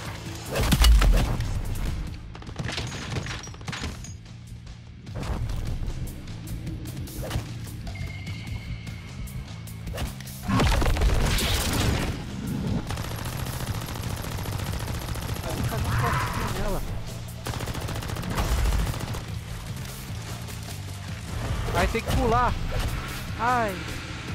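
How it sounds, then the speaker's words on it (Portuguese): Gunfire from the game Deadbolt comes in loud bursts and single shots scattered throughout, with crashes and a person talking over much of it. "Tô atirando nela."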